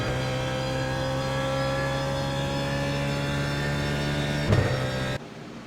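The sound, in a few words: BMW Z4 GT3 engine accelerating at Interlagos in iRacing video game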